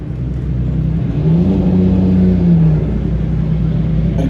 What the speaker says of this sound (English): McLaren P1, the legendary P1, emerges from your right.